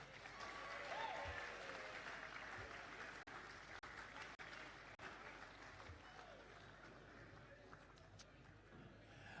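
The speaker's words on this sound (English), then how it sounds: "Would you please give a round of applause to Andrew Scott?" A medal night audience at a Black Diamond AFL presentation applauds award winner Andrew Scott, a quiet, distant spread of clapping with a low murmur of voices beneath.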